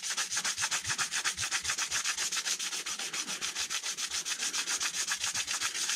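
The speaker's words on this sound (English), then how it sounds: "you can go ahead and start sanding and get it prepped for your paint" Fine sandpaper rubbing back and forth over a filled area to smooth it before painting, a steady rhythmic scratchy sanding of about four strokes per second, close and continuous with no talking.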